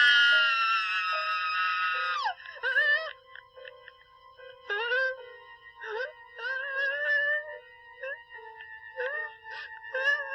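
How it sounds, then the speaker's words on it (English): A woman in a Halloween horror film lets out a long, piercing scream, then breaks into a series of shorter, wavering shrieks and gasps, loud and close with no other sound around them. "we got the screaming"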